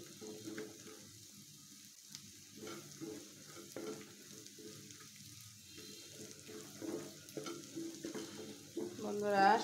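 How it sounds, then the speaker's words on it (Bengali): A snack frying in a pan makes a quiet, low sizzle, with intermittent stirring and scraping that grows a little louder toward the end. "ভালো একটা ফ্লেভার যতক্ষণ আসবে না, ততক্ষণ আমি এটাকে সুন্দর মতো ভেজে নেব।"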